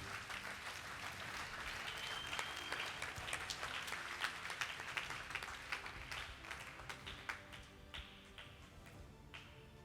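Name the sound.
applause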